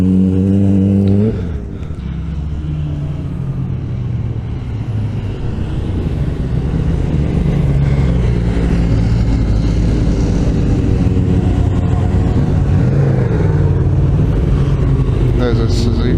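A Suzuki motorcycle passes on the Snetterton race circuit, its loud engine roar swelling and holding steady, with someone talking over it.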